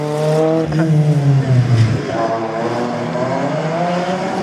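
A rally car on the start line of a slalom event in Saint-Lô revs loudly, its engine note rising and dropping before settling into a steady drone, with a commentator talking over it.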